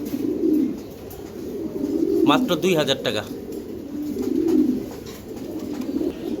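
Giribaj pigeons of a released flying line coo in soft, repeated throaty rolls close by, while someone talks over them.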